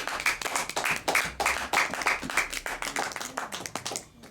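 A church congregation claps and applauds for Jesus in loud, rapid rhythmic bursts for about four seconds before the clapping cuts off.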